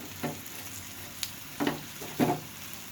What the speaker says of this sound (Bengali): আমি এখন খুব সুন্দর করে ভেজে নিচ্ছি